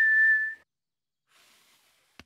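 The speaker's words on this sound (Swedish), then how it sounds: "Jag visslar." A short, steady whistled note, clear and close, followed by a soft airy hiss and a brief click.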